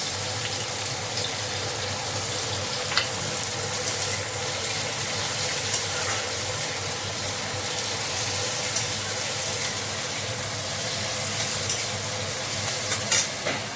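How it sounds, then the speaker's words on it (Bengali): Onions frying in oil in a wok for a masala base, a steady loud sizzle with occasional stirring scrapes throughout. "এবার এই দেখুন এতে পেঁয়াজ, একটু পেঁয়াজ ভাজবো, মশলাটা বানাবো।"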